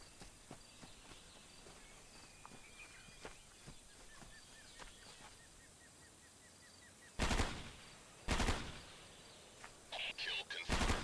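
Gunfire in the tactical shooter Ghost Recon: Island Thunder: faint scattered pops and a light rapid rattle early on, then several loud close bursts of automatic fire toward the end.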